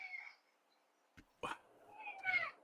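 Dog noises from a Super Mario Maker 2 level: two sharp, quiet yelps followed by a rising, whining whimper near the end, with soft background sound between.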